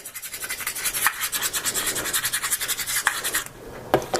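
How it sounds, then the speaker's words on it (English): Metal key scratching the back of an HTC One M8 phone, fast rhythmic close-up rasping strokes repeating steadily, then a brief pause and a couple of final scrapes. "we're going to go ahead and grab this key. Get this a little bit closer. And scratch up the back just a little bit."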